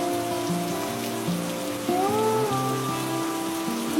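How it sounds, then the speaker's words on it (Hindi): Heavy rain pours in a steady, dense hiss for the whole stretch, running beneath a melodic music score, with no voices. "फिर जोर की बारिश शुरू हो गई"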